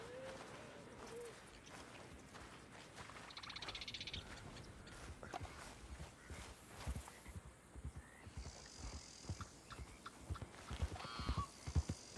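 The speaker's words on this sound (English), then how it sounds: "Was that just a horse?" Hooves clip-clop at a steady walking pace amid a busy, layered game soundscape, with scattered impacts and background ambience throughout.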